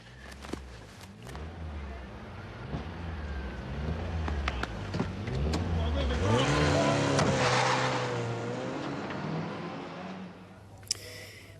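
A car arrives with a low engine rumble that rises and passes close by mid-way, with scattered clicks and bumps around it and a few sharp knocks near the end; no talk is audible.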